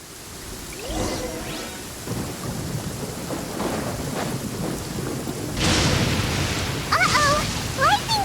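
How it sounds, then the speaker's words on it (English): Rolling thunder and steady rain from a lightning storm in a video game, a continuous wash of rainfall with deep rumbles building toward the end, while a voice talks briefly and high chirpy game effects pop up near the close. "Lightning storm!"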